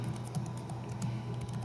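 Keystrokes on a computer keyboard while a networking command is typed for a router configuration, a steady patter of light clicks with a faint hum beneath, close and fairly quiet.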